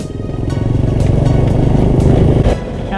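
A GOFAR motorcycle rides along with a loud, close, throbbing engine note, its pulsing exhaust rising slightly before easing off near the end.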